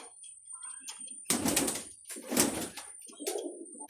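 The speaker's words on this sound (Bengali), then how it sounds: "এক জোড়া শৌখিন কবুতর" Fancy pigeons in a farm loft, a pair of Indian-fantail-type birds, give low soft coos in short bursts close by, with a few louder rustling flutters of wings between them and no talk.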